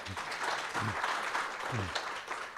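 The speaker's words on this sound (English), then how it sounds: "A round of applause, please" Audience applause at a South African governance dialogue, a steady wash of clapping at moderate level, with brief low voice fragments underneath.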